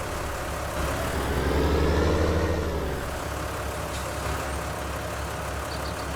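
A tractor engine drones steadily while driving in the Farming Simulator 19 video game, swelling louder for a couple of seconds before settling back to an even rumble.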